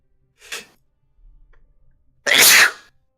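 Two sneezes from a woman, a short soft one followed after a pause by a loud, explosive burst, with faint rustling in between and no speech.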